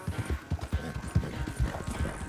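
A horse gallops in Red Dead Redemption 2, its hooves striking a fast, steady clip-clop rhythm close by and loud, with no talk over it.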